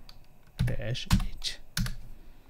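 A command is typed on a computer keyboard while backing up a Raspberry Pi 5: a few close, crisp key clicks in short bursts, with someone speaking over them.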